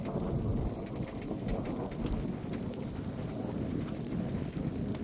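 Steady heavy rain from a supercell storm at Villefranche pours down, a dense continuous hiss and patter with low rumbling wind buffeting the microphone, no voices.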